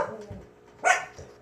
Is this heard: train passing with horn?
no